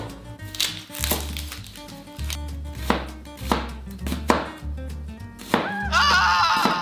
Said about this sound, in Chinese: 首先，我们先来切洋葱。